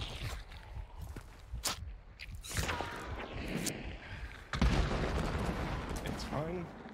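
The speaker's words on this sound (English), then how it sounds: "Chaos and explosions." Scattered gunshots and booming blasts burst through a dense, noisy battle din, with a heavier explosion partway through.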